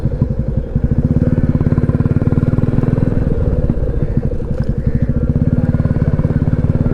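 A motorcycle engine idles with a steady, rapid close-up putter, loud and alone, as the bike is parked at Sawariya Seth temple in Chittorgarh.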